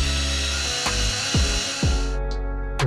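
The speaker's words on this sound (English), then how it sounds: "you clean up these gasket mating surfaces and make sure a bunch of junk doesn't go down in your intake side of" Scraping and rubbing across the gasket mating surfaces of a Toyota V8 cylinder head, a steady abrasive hiss broken by a few sharp scrapes, close and fairly loud with no talk.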